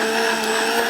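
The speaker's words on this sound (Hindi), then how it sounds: "और ये अब इसको जब मिक्सी में आप घोट देते हैं" A mixer grinder blending boiled mango for aam panna, a loud steady electric motor whir with a whining pitch, continuous and close for a brief moment, no talking.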